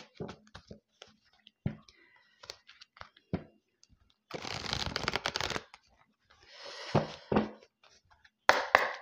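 Tarot cards being shuffled in several bursts of riffling and flicking, with quiet pauses between, close and fairly soft with no talking.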